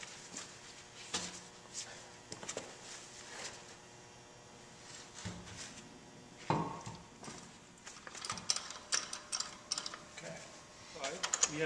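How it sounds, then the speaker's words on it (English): Metallic clunks, ratcheting clicks and scraping come from a wheel being refitted to a 2005 Chevy Avalanche during a brake job, irregular and close by with quiet pauses between the knocks. "I'm going to throw the wheel back on."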